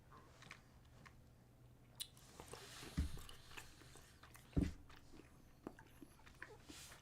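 Close-up chewing of rubbery, waxy grape-flavored candy, with soft wet mastication and a few sharper crunchy bites standing out, quiet and without talk.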